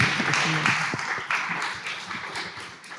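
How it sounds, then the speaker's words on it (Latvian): Applause from the audience at the opening of the 2025 Latvian Circular Economy Forum, a steady wash of many hands clapping that fills the whole moment without a break. "Te ir aplausos."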